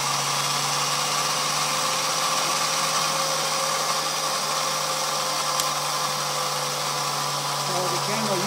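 A Dynafax high-speed camera's drum spins at 15,000 pictures per second, giving a steady, loud, even mechanical whine and hum that runs unbroken throughout with no change in pitch.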